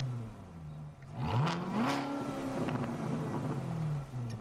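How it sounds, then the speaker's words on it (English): A supercharged car engine revs and whines, its pitch sliding up then settling into a sustained tone, close and moderately loud. "Why does the supercharger sound like that?"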